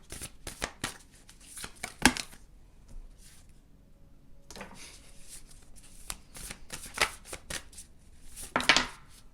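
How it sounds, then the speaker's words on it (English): Oracle cards are shuffled in bursts of quick riffling and slapping, near and crisp, with short pauses between rounds. "shuffle all of the cards right now"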